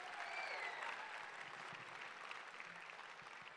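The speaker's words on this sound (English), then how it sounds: "Can we give another round of applause for them?" Audience applause for a jazz quintet's performers, distant and fairly faint, a steady patter of many hands lasting a few seconds with a faint tone ringing briefly near the start.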